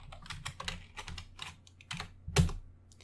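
Keys clatter on a computer keyboard during programming, a quick irregular run of close, soft taps and clicks ending with one heavier thump, with no talking.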